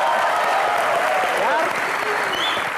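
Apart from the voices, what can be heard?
studio audience applause on a comedy show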